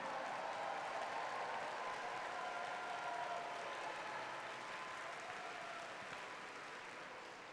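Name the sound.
applause for the judges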